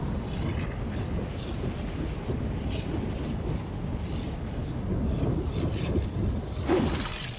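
Signal flare rocket launching in a video game, a sustained roaring whoosh and rumble with crackling bursts, loud and continuous throughout, swelling toward the end.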